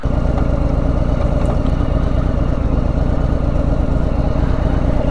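A Harley-Davidson Street Bob motorcycle engine idles steadily and loudly up close with its exhaust flap open, its low exhaust rumble throbbing evenly throughout with no pauses.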